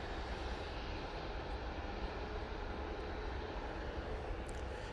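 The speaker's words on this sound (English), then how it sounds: "KLM Embraer E175." A KLM Embraer E175 jet airliner at Manchester Airport makes a steady, fairly faint broadband engine rumble that holds evenly throughout and sounds somewhat distant.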